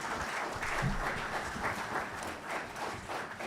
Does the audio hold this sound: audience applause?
yes